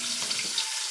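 Fish frying in a pan gives a steady, close hiss of sizzling oil with faint crackles.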